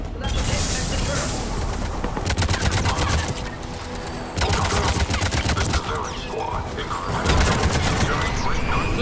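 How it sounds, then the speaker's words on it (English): Rapid bursts of gunfire crackle through a Mass Effect 3 battle against Cerberus forces. Loud volleys of automatic fire come in several separate stretches with short gaps between them. "Taking enemy fire from the position Caltech 4."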